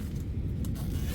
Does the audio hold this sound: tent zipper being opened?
yes